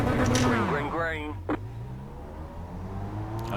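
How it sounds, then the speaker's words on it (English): A Mazda MX-5 race car at Oulton Park revs hard, engine pitch sweeping up and down through gear changes, loud and close, with a person talking over it. "I was revving that thing out a little too long for my liking."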